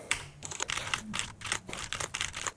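Someone types a passphrase on a Mac computer keyboard in a terminal: quick, quiet clusters of key taps in uneven bursts with short pauses, close-miked and alone.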